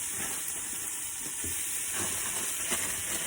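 Mushrooms sizzling in a stir-fry pan, a continuous bright hiss of frying with faint crackles and soft stirring knocks underneath, steady throughout and close by.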